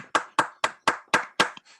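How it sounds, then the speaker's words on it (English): Audience applause at the close of a university PhD thesis defense: six sharp, evenly spaced bursts of clapping, close and fairly loud, with a brief softer patter trailing off at the end. "Needs to be some applause."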